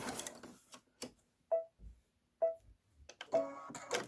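Sewing machine making a few reverse stitches, short mechanical whirring bursts separated by quiet pauses, close and moderately faint, with a final longer run of stitching.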